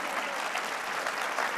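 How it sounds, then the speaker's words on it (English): Audience applause at a political speech, a brief, fairly faint burst of steady, dense clapping from many hands, heard alone without talk. "And that's okay to applaud as well."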